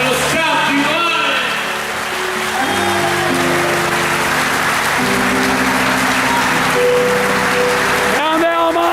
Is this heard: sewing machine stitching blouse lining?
no